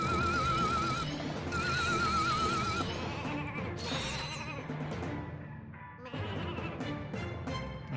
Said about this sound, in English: Okay, we have sheeps.